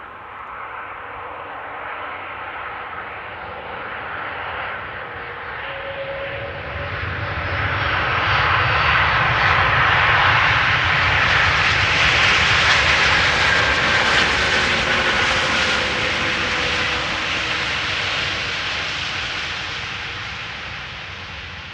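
An airliner passes at Amsterdam Schiphol Airport, its engine roar swelling steadily, peaking and slowly fading over about twenty seconds, loud and sustained with no talk.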